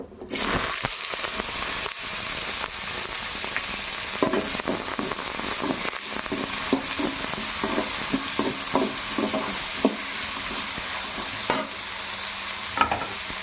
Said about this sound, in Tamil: எண்ணெய் காஞ்சதும் தேவையான அளவு கடுகு சேர்த்துட்டு கருவேப்பிலையும் ஆட் பண்ணிக்கோங்க. வெங்காயம் இது கூட ஆட் பண்ணிக்கோங்க.